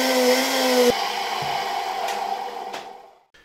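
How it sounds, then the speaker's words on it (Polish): An old KASB 7030 motor from a mid-1960s Polish Gamma 2 vacuum cleaner runs with a steady, close whirring hum that shifts pitch abruptly about a second in, then keeps droning before cutting out near the end. "w tym nagraniu ze starym silnikiem typu KASB 7030 wyjętym z polskiego odkurzacza Gamma 2"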